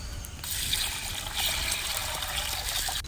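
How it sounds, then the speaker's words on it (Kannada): Water pours into a cooking pot in a steady hissing trickle with a bright splashing edge, close and fairly quiet, running alone without any voices. "ಈಗ ನೀರು ಹಾಕುವ"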